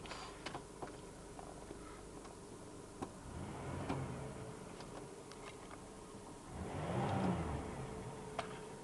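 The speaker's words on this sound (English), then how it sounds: "Get some interior revs with the windows down." A 2003 Chevrolet Monte Carlo engine revs up twice from inside the cabin with the windows down, rising into a louder surge near the end, with faint clicks and road rumble throughout.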